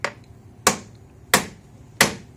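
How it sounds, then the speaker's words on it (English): Metal parallels are tapped down into a steel machinist's vise, producing four sharp, evenly spaced metallic taps about two-thirds of a second apart, close and clear against a quiet background. "you have to like tap it down a little bit"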